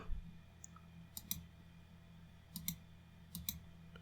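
Computer mouse clicks during 3D modeling work in Blender, heard as a few short, sharp click pairs at irregular intervals over a quiet low hum, with no talking.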